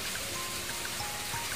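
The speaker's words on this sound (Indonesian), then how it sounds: "suasana hujan guys ya" Steady rain falls outside, a soft even patter and hiss heard from a distance while a television is being repaired indoors, with no voices.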